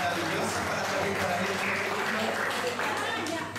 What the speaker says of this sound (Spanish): démosle un aplauso a la Yolita